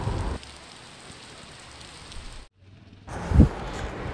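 Rain falls in the mountains of Ziarat, Balochistan, as a steady close hiss. It cuts out briefly, then returns louder with a few dull thumps.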